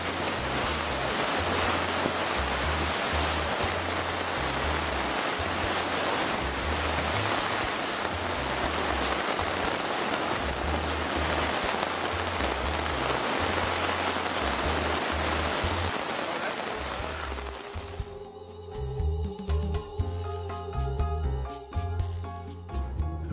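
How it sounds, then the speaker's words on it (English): Steady roar of wind and heavy rain lashing a flapping temporary tent shelter at Lake Diefenbaker, loud and continuous, easing near the end into rustling and knocks. "gusts of wind would catch our temporary shelter"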